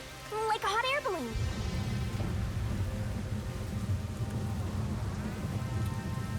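Steady rain in the detective game Master Detective Archives: Rain Code, a dense continuous patter that follows a brief voice at the start, then runs alone at an even, moderate level.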